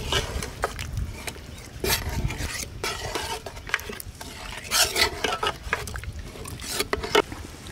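A ladle stirs masala gravy for brinjal kulambu in a pot in a village kitchen, giving repeated scraping and clinking strokes against the metal in an irregular rhythm, close and moderately loud, with no voices.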